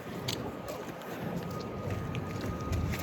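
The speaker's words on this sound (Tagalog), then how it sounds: "Mahangin guys." Steady outdoor wind buffets the microphone on a bitterly cold winter day in Canada, around minus nine degrees, a continuous low rumbling roar with no talk over it.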